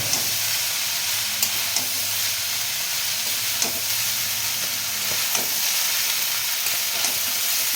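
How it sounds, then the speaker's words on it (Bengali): Spices and vegetables, including beetroot, being stirred in a frying pan for egg chowmein: a steady hot sizzle with scattered soft scrapes and taps of the spoon, close and continuous, with no voices. "মশলা সবজির সঙ্গে মিশে নিচ্ছি"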